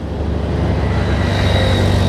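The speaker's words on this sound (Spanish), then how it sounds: "Todos los carros van de subida." Cars and motorcycles climb a steep hill road, a steady loud engine rumble with a rising whine as vehicles pass close by.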